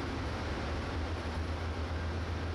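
A double-decker transcontinental passenger train travels from Chicago toward Denver, its steady low rumble and rolling hum filling the space evenly and continuously at close range.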